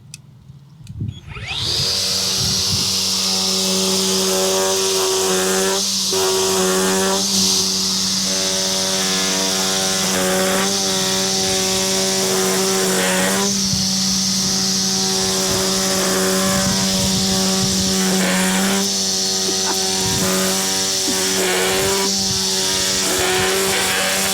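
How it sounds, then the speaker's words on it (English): An EGO 56v battery line trimmer, held turned on edge to cut a lawn edge, whines loudly and steadily with a high-pitched motor tone and buzzing line for about twenty seconds, with slight dips in pitch. "see if I can create the same level of edge as I did with the edger when the line trimmer is turned 90 degrees"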